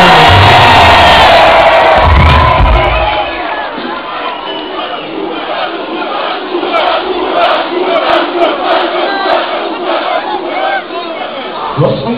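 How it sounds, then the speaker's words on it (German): A large crowd at a hip-hop concert in Münster in 2011 roars, cheers and shouts for the drummer, loud at first and then settling into sustained whooping and yelling. "Macht mal Lärm für Uwe!"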